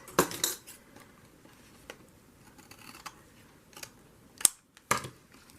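Big scissors trimming paper at a craft desk: a few crisp, close snips cluster at the start, with more sharp cuts later in an otherwise quiet room.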